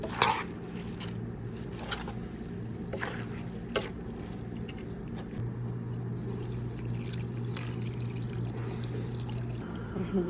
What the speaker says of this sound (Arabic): راح نضيف الحين الموية الحارة